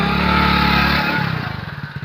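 A motorcycle engine that is low on petrol chugs steadily up close for about a second, then its rhythm shifts into uneven, sputtering pulses as it tries to keep running.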